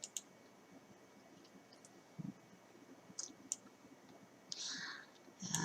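A computer mouse clicks while a photo filter is selected in PhotoScape X photo-editing software. The sharp clicks are faint and scattered, with a few isolated ticks and a brief soft rustle.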